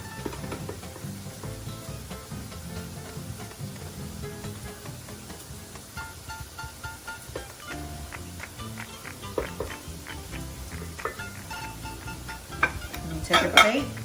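A spoon scrapes and taps against a little bowl while rice is packed in for lomo saltado plating, with soft repeated clinks and scraping building to sharper clatters near the end, against faint kitchen background.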